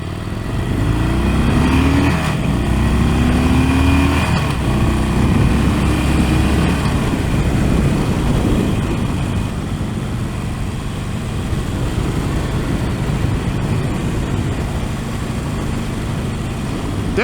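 A Harley-Davidson Sportster Forty-Eight 1200 motorcycle engine drones loud and steady while riding, with constant wind rush throughout and no voices.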